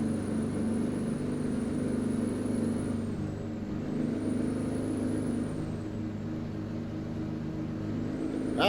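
A Mack truck in Euro Truck Simulator drones with a steady, low engine rumble, a constant mid-level hum under faint high whine, running alone without talk.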